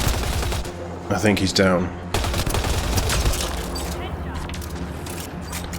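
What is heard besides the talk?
gunfire in a firefight, from video game Mass Effect Andromeda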